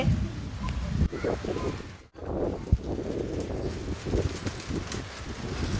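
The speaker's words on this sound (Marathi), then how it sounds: "आराध्या पावसात भिजते" Steady rain patters and hisses outdoors with a brief dropout midway and an occasional louder tap, no talking.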